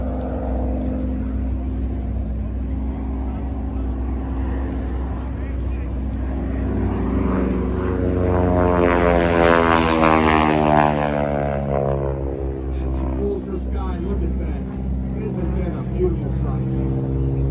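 Yellow propeller biplane at an air show, its engine drone rising as it approaches, peaking in a loud close pass with a clear pitch drop, then fading away; a commentator talks throughout.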